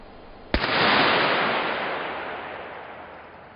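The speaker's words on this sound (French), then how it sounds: "des expériences qui nous permettent de préparer de manière beaucoup plus réaliste des campagnes de terrain pour déclencher la foudre en plein air" A single sharp crack of a laser-triggered lightning discharge in a laboratory experiment, an abrupt loud snap followed by a broad roaring rumble that slowly dies away over a few seconds.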